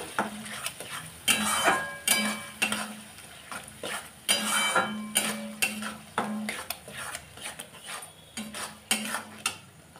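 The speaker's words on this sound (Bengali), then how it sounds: "এই দইটাকে দিয়ে আবার একটু কষিয়ে নেব।" A duck egg curry with whisked yogurt being stirred and sautéed in a pan, with a spoon scraping and clinking against the metal in quick repeated strokes over a light sizzle of frying oil.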